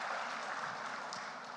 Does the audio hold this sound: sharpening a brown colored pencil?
no